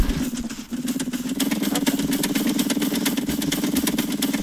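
Vehicle engine in the Scrap Mechanic game drones loudly and continuously, a rough pulsing rumble with rapid mechanical ticking throughout and a brief dip near the start.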